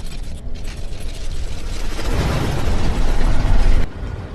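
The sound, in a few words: big tanks rumbling, in a dubbed movie scene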